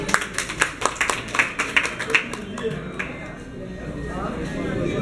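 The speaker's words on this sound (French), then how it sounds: "Applaudissez alors pour le couple." Wedding guests clap for the couple, giving a burst of quick, fairly close claps that thins out after a couple of seconds, with voices talking underneath and continuing afterward.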